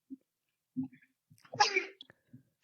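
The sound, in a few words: sneeze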